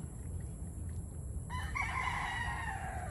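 Chickens cluck and a rooster crows among broodcock and brood hen breeding pens, the crow rising midway through and carrying from a moderate distance over faint background noise.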